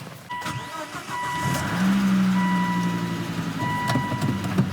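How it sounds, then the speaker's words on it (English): A Volvo S60R engine cranks, catches and settles into a steady idle with a light ticking from the valvetrain, close and fairly loud, with no talking. "Boy, we gotta get rid of that valve tick"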